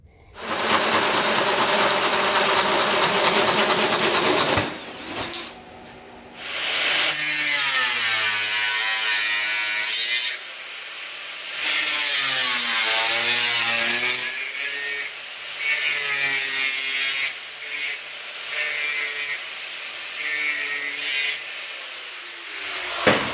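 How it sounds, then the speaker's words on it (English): A power saw with a zip blade whines and rasps through material in long bursts, pausing between cuts, loud and close with no talking. "So I got it all cut out, just straightforward, cutting with a zip blade"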